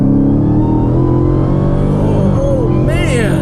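Loud, steady engine roar of a Dodge Demon accelerating hard at half throttle from inside the car, rumbling continuously throughout with a voice exclaiming near the end.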